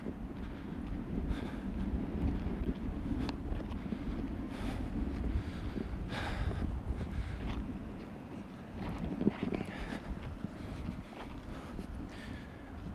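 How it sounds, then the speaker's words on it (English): Wind rumbles steadily against the microphone with occasional soft gusts, fairly quiet overall and without speech. "Now the wind is dying down, which is good."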